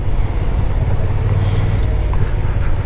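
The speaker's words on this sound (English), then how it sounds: "And now we are seriously getting into some very, very, very, very heavy traffic." Riding a Kymco AK550 maxi scooter through heavy city traffic produces a loud, steady low rumble of engine and road noise, constant with no pauses.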